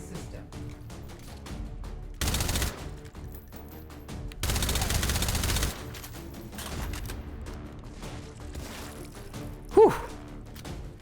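A suppressed gun firing in a video game: two dense bursts of rapid muffled shots, the second longer, set among quieter game noise, followed later by a short sharp squeak.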